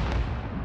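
A single short, heavy missile explosion in Call of Duty: Modern Warfare, a deep rumbling blast filling the brief moment close up.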